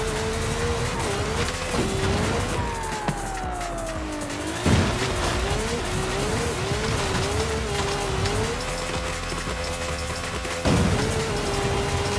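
A car in Forza Horizon 5 decelerates hard from high speed, its engine tone sweeping down and wavering over steady road and tire noise, with a couple of brief thumps near the end.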